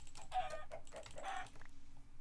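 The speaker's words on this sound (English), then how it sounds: "There's a ton of chickens here." Chickens in the Minecraft video game give several short clucking calls in quick succession, soft and somewhat distant over faint game ambience, with no talk over them.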